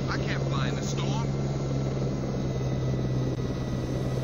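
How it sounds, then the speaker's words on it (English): Ranger helicopter flying in Jurassic Park: Operation Genesis, a steady loud rotor and engine drone with a constant low hum throughout, briefly overlaid by game voice chatter at the start. "But I wanna, like, jump into a Ranger helicopter now"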